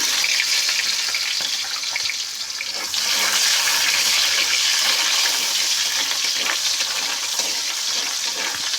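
Chopped onions frying in a pan for a jackfruit curry, a loud continuous hissing sizzle close by with brief stirring scrapes, no voices.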